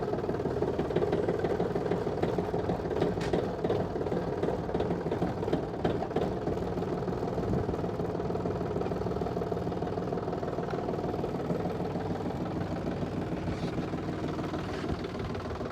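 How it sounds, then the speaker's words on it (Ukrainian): A Yanmar AF220 mini tractor engine runs steadily and evenly throughout, a continuous close mechanical drone with no voices. "Трактор завівся з півоберту, реверс і рушаємо"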